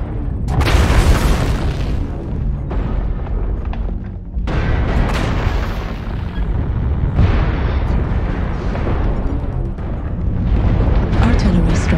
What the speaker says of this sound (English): Artillery strike activated.